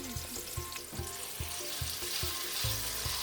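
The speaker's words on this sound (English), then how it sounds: "Once the ghee is melted, I added the mashed sweet potatoes to it and gave it a really good stir." Mashed sweet potatoes are stirred through melted ghee in a pan. A low sizzle plays under regular knocks and scrapes of the spoon, roughly two per second, heard close.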